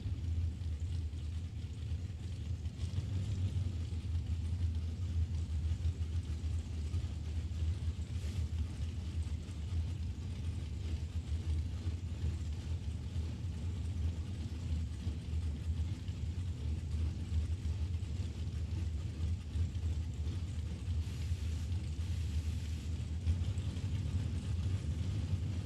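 Drag racing run with Bob Kelly's dragster in the right lane against Jake Huntington's big Buick Roadmaster at Mid Michigan Motorplex: a steady, distant low engine rumble with wind noise throughout, no clear launch or peak.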